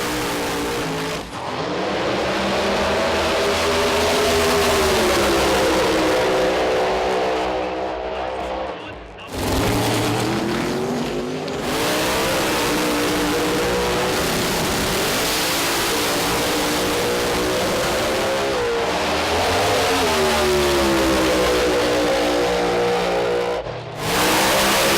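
Turbocharged and supercharged Pro Mod drag racing cars at the Sydney Jamboree, engines roaring loud and close with rising, revving pitch sweeps across the run, broken by a short lull before the thunder resumes.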